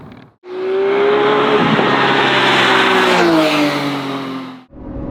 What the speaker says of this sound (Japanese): 今日はポルシェ 911R に乗っています。